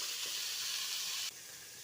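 Onions frying in a pan for tripe curry (kudal kuzhambu), a steady bright hissing sizzle that drops slightly in level near the end of the short stretch.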